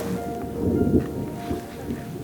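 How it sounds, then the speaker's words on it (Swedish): Low thunder rumbles at Everest base camp, a broad, steady roll with a slight swell in the middle, heard outdoors and moderately distant. "Mullrar lite åska."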